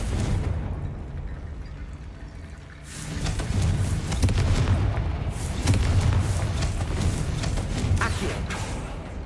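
Spell blasts from Confringo in the Hogwarts Legacy video game, heavy booming explosions and thuds rolling over a dense game soundtrack, loud and sustained after a brief dip.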